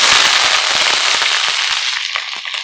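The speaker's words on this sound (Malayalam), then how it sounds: "കടുക് നന്നായിട്ട് പൊട്ടട്ടെ" Mustard seeds pop in hot oil with dense, rapid crackling and sharp spits under a loud sizzling hiss, close and continuous, thinning slightly toward the end.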